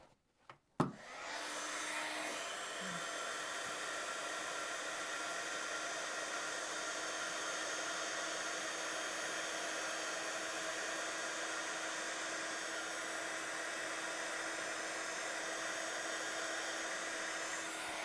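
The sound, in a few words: heat gun melting embossing powder on paper flowers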